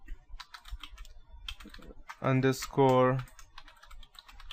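Fingers tapping on a computer keyboard, a quick, close run of light key clicks before and after a short burst of voiced sound in the middle.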